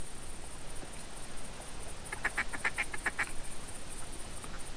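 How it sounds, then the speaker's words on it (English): Close-range duck caller in the hunting game The Hunter 2014: a quick run of five or six nasal quacks at moderate volume over steady outdoor ambience, with no talk. "it's a very good way to call in ducks with that close range caller"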